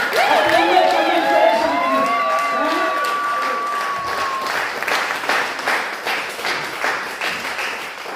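A church audience gives sustained, loud applause with cheering and whistles, and a voice calls out over the steady clapping throughout.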